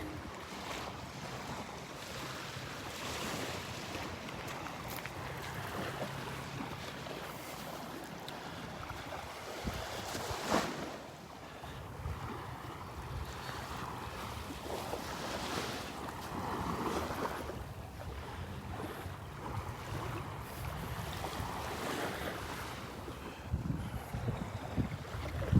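Surf washes steadily onto a beach at Delnor-Wiggins on a morning walk, a continuous roar of waves with wind buffeting the microphone throughout; footsteps are not clearly distinct beneath the surf and wind.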